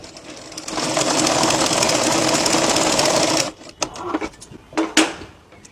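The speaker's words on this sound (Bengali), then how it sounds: "এবার আমি সেলাইটা দিয়ে দেখবো যে সেলাইটা কিরকম হচ্ছে।" Sewing machine running a test seam after its thread tension is tightened, a steady close whirring for about three and a half seconds, then stopping, followed by a few short clicks and handling knocks.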